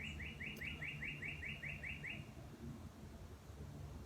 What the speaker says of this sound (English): I hope when you listen to the video, you can hear the birds